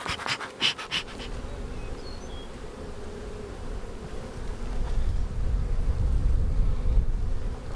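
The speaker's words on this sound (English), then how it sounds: "We got bees with pollen on their legs all the way up here at the top." Honeybees swarm around a storm-blown hive, a dense, steady buzz close by that grows louder and fuller toward the end, with a few handling knocks near the start.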